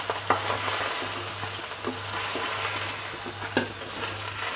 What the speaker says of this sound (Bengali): আমি মাছটাকে ভেজে নিচ্ছি।